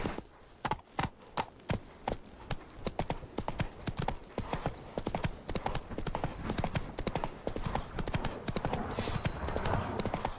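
Roach the horse's hooves clip-clop steadily and close up in The Witcher, a brisk repeating rhythm of sharp knocks that runs the whole time, with faint game ambience behind it.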